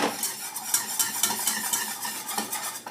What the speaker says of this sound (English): We're going to stir it until we've incorporated it